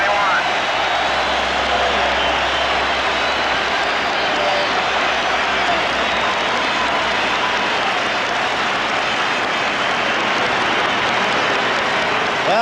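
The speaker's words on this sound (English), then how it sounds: "as Seaver comes up, watch the crowd respond here at Shea Stadium" A large stadium crowd at Shea Stadium roars and applauds for pitcher Tom Seaver at a baseball game, a dense, steady wall of cheering that holds loud and unbroken throughout.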